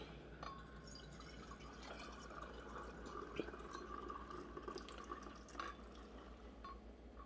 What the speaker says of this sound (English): I am going to pour my milk right in there